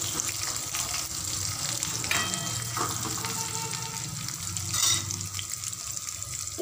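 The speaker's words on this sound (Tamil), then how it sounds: "இந்த தாளத்தை நல்லா பொரியணும்." Fenugreek, crushed garlic and broken dried red chillies fry in hot oil in a pan, a close, steady sizzle and crackle with brief louder bursts, continuous throughout.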